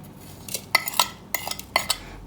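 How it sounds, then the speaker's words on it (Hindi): A spoon clinks and scrapes against a metal bowl while mixing spices into tamarind, with sharp irregular metallic taps close up and no talking. "इसमें सारे मसाले मिक्स कर देते हैं"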